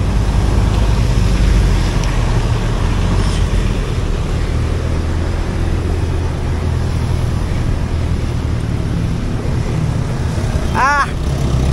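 Heavy traffic on a steep uphill road, a steady loud low engine rumble from nearby idling and creeping vehicles, with a brief horn honk near the end.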